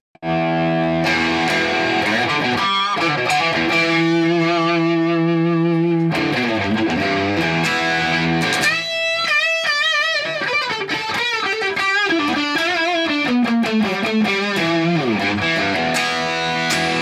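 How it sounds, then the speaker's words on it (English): A distorted electric guitar plays through a Marshall DSL40C tube amp, loud sustained chords then busier runs and bends with crunchy tone, continuous and up front with no talking. "It's a great sounding amp. You got classic Marshall's tones."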